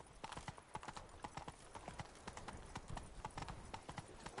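A horse in The Witcher 3 clip-clops at a fast gallop, hoofbeats drumming in a steady rapid rhythm, fairly quiet and close, with no talk over it.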